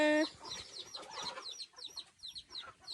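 A short tonal sound opens, then a flock of farm chickens clucks in scattered, choppy bursts close by, rising and dipping irregularly outdoors.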